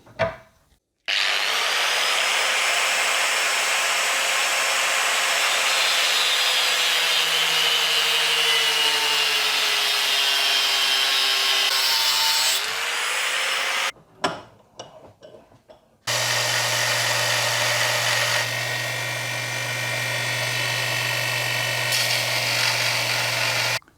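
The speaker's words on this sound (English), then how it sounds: "Apparently I can't cut shit very straight with the grinder" Angle grinder cutting bolts held in a vise, a loud, sustained high-pitched whine and grinding that runs for long stretches, stops briefly, then resumes with a lower, steady droning tone, with no talking.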